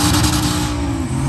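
A turbocharged 408 Chevrolet Sierra drag truck of about 1200 hp revs loudly nearby, the throaty roar rising and settling over a brief moment with no talking.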